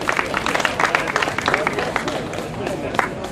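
A studio audience applauds steadily at a Finnish pageant event, a dense spread of claps running the whole time with a busy crowd murmur mixed in.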